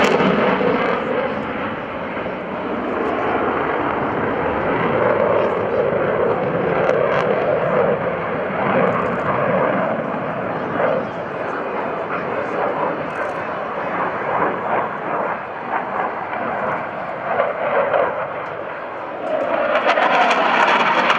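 An F/A-18C Hornet fighter jet flies a minimum radius turn at a naval air station airshow, its engines a loud sustained roar that swells and rumbles throughout with a slightly louder surge near the end.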